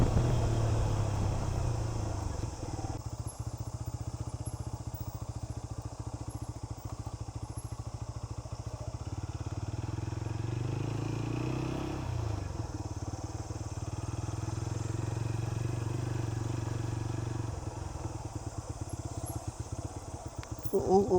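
A motorcycle rides over a rough village road near Mumbai on a summer outing, with a steady engine drone and low rumble and occasional clattering thumps from the uneven surface.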